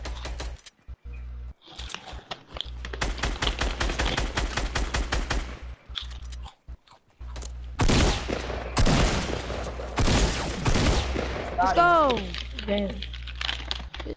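Loud gunfire from a hunting rifle in a shooter video game comes in dense, rapid bursts with brief pauses between volleys, and players talk over the shots.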